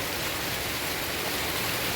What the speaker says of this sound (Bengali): প্রচণ্ড বৃষ্টি পড়ছে